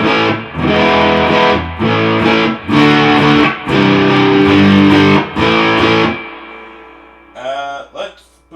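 Electric guitar on its humbucker pickup, played through a Black Country Customs Steelspark overdrive with the gain at full, producing loud, thick distorted chords in choppy bursts before a brief trailing riff.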